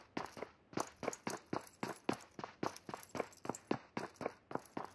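Enemy footsteps in a video game, coming from the floor below: a steady, rhythmic run of about seventeen crisp steps over five seconds, moderately loud and alone with no talking.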